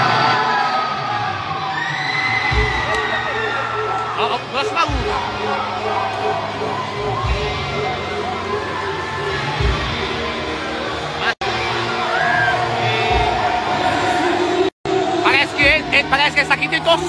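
A crowd of supporters cheering and chattering outdoors in Penedo, a steady dense babble with whoops and shouts rising throughout, and voices talking close by over the noise.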